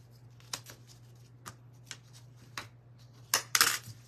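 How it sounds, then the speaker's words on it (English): A 12x12 sheet of paper being folded, heard as a few sharp crinkles and creases spaced out over a low steady hum, ending in a louder burst of rustling handling near the end. "So I'm going to fold this down this way"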